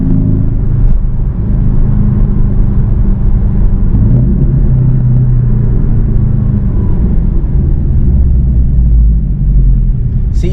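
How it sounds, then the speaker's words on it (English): A Porsche 718 Cayman with a flat-four turbo engine and an aftermarket turbo inlet pipe drones steadily from inside the cabin while driving. A constant loud low rumble carries a faint whooshing air intake on top. "going down to second gear, I can hear it sucking in air."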